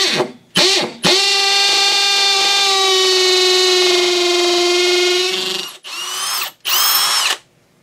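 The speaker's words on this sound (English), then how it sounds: "I got a 3/16 inch hammer drill bit and got a concrete block here" Milwaukee M18 compact hammer drill with a 3/16 inch hammer bit boring into a concrete block: a loud steady whine for about five seconds after brief starts, then two short bursts as it spins down, with no talking.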